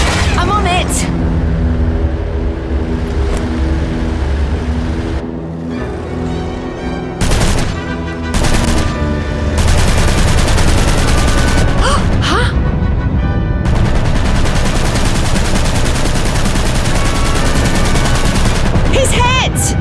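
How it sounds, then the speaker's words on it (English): Loud gunfire in a 1939 wartime air combat scene, dense bursts of shots over a continuous roaring background, with shouted voices in between. "Start shooting back then."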